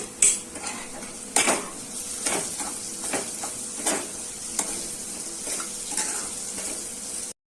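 Spice masala of Kashmiri chilli, onion-garlic chutney masala, turmeric, coriander powder and pav bhaji masala being stirred in a pan for egg bhurji, a close steady sizzle broken by repeated scraping and clanking strokes.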